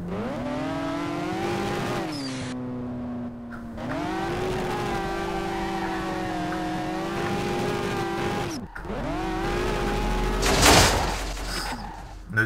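A VAZ 2107 car drifts in the SLRR video game, its engine holding a loud, steady drone that dips and rises with throttle changes, then ends in a brief burst of tire noise.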